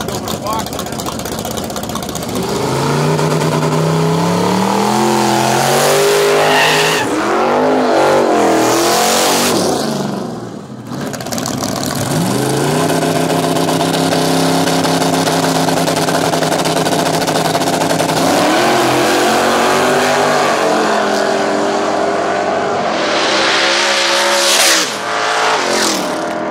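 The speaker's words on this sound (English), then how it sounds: "He's running a shop truck, a twin turbo LS powered S10." A twin-turbo LS-powered S10 shop truck roars down the strip at a no-prep drag race at St Thomas Dragway, its engine rising and falling through long, loud revving sweeps, with crowd and announcer noise around it.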